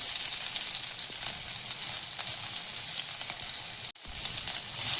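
Cumin, asafoetida and green chilli fry in hot oil for a Konkani amaranth-leaf dish, giving a steady close, bright sizzle with a brief sharp break near the end before the crackle resumes.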